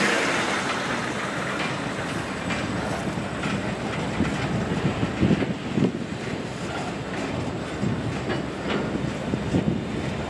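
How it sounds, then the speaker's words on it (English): A local Norfolk Southern freight train shoving back along the track, a broad rumbling roar with wheel clatter and wind buffeting the microphone, steady and fairly close. "Train's coming back."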